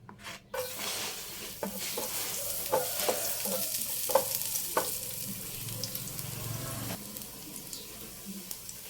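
Garlic sizzles steadily in hot cooking oil in a pan for a sardine dish, a continuous bright frying hiss with occasional scraping stirs and light clinks, moderately close, no talking.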